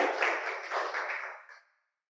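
A church congregation claps and applauds together in a dense, steady burst lasting under two seconds, fairly close and loud, then cutting off sharply into silence.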